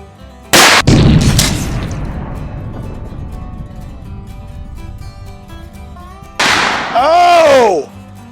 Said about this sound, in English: 100-yard shot with the Smith & Wesson 500.